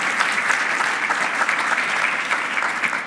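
Audience applause at a campus lecture: dense, continuous clapping from a sizable crowd, loud and even for the whole stretch, with no speech on top.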